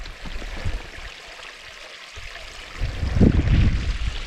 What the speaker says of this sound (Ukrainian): Повноцінний струмок.